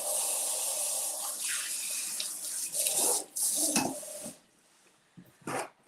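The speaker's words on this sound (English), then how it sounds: "Let me wash my hands." A tap runs steadily into a sink while hands are washed, the flow breaking up and splashing near the end before the water shuts off, leaving brief quiet and a last splash.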